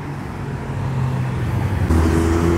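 Signal Yellow Porsche GT3 driving past, a loud, steady engine roar that swells and shifts pitch near the end over background traffic.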